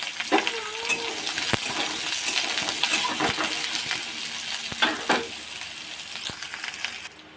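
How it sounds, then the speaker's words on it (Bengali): Onions fry in a pan with a continuous sizzle, broken by occasional clinks and stirring knocks, and nobody speaks. "পেঁয়াজগুলো ভেজে নেব।"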